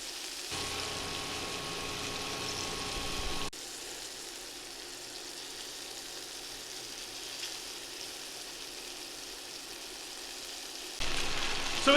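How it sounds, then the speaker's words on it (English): Ground beef browning in a skillet, a steady soft sizzle and crackle that drops quieter midway and then swells again near the end, with no talking. "We're going to go ahead and we're going to brown our ground beef in 2 batches."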